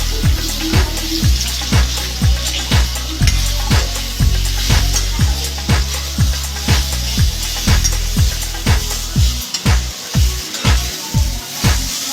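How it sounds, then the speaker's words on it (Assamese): Mango pieces sizzle and fry in hot oil while a steady rhythmic knocking repeats about twice a second, close and fairly loud, with no talking. "এতিয়া আমি জেলি বনাবৰ বাবে আমখিনি ভাজি আছোঁ"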